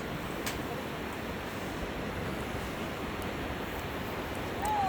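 The river at Lower Falls gives off a steady, broad rushing wash of flowing water that stays even and fairly close throughout, with a faint short whistle-like tone near the end.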